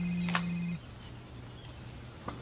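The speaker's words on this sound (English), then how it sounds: "Tiffany, get me Bob Greenblatt on the phone" A telephone ringing in a film scene: a short electronic ring tone sounds near the start and cuts off, followed by quiet room tone with a few faint clicks.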